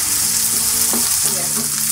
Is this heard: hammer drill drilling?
no